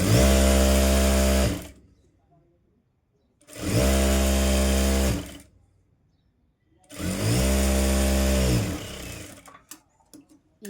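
A sewing machine stitching a tuck blouse runs in three separate bursts of steady mechanical whirring, each lasting about two seconds. Quiet pauses fall between them, and handling clicks follow at the end.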